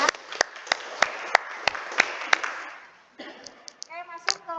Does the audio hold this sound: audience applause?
yes